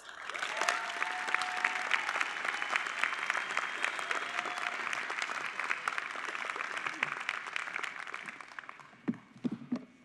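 Sustained applause from a university commencement audience, steady and dense across the hall as a student speaker is welcomed to the stage, thinning near the end with a few scattered louder claps.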